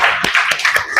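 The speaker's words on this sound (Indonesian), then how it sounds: "Kasih tepuk tangan buat kita semua." Classroom clapping during a lesson, a few loud, sharp, evenly spaced claps close by, with no voices over them.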